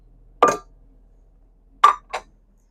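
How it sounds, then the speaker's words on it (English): A metal pot is pulled from a cabinet in a Fleetwood Discovery 40G motorhome, giving one sharp clink followed about a second and a half later by a quick double clink, close and clear with no talking. "I'm going to grab a pot out of the cabinet real quick and just show you what they look like."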